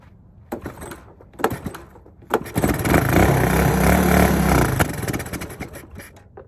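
A Honda ATC 200S engine running on five-year-old cloudy gas cranks in short bursts, then catches and roars loudly for about two seconds before fading out.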